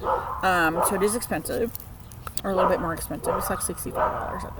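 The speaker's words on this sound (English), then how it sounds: "That's my dog barking." A pet dog barks and yips repeatedly in short bursts nearby while a person keeps talking over it.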